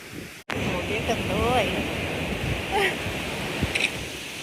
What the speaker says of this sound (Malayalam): തിരമാലകളാണ് എനിക്ക് ഹരം.